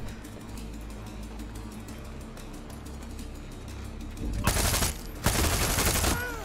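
Gunfire in the Far Cry 6 video game: a dense, continuous barrage of rapid shots under game sound, swelling into two louder, sustained bursts of fire near the end.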